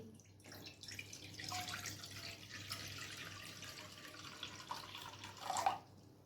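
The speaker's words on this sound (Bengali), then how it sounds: "সেই কড়াইয়ে জল দিয়ে দিচ্ছি" Water poured into a kadai (wok), a soft trickling splash that swells and fades, quiet and fairly close, with no talking.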